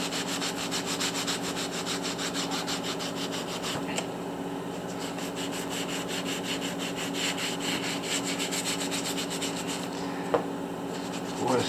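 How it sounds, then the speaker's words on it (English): A sponge is rubbed like sandpaper over a hard fossil sawfish rock from Lebanon, giving a continuous, close, steady scraping with a few small knocks. "I literally take my sponge, kind of use it as sandpaper, but the rock is so hard it's not about to touch the rock."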